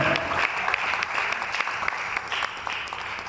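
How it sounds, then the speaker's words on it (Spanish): A church congregation applauds during a Spanish-language sermon, a loud, dense wash of clapping from many hands that continues steadily throughout. "¿Cuánto le aplaudo al Señor?"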